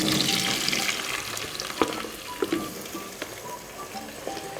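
Cut potatoes frying in a pan with browned onions, a steady close crackling sizzle with a few sharp clinks and scrapes of stirring; no talking.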